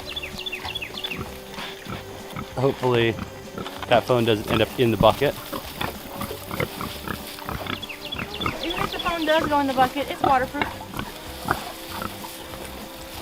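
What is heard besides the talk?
pigs grunting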